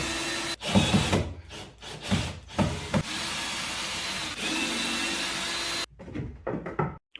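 Power driver backing screws out of garage storage fixtures, several loud whirring bursts starting and stopping close by, with short gaps and clicks between them.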